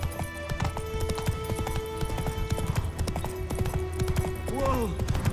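Horse hooves clip-clopping steadily at a gallop in the video game The Witcher 3, close and rhythmic, with a brief whinny near the end and a voice speaking over the hoofbeats.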